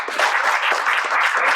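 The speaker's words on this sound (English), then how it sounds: "One more round of applause for Rick and the panel." A room of attendees at a zero waste panel discussion gives a loud, sustained round of clapping, dense and even from start to finish.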